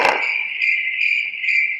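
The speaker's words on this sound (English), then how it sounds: "Crickets." Crickets chirp steadily in a high, continuous trill with pulsing swells, close and clear, with a short noisy burst at the very start and no talking.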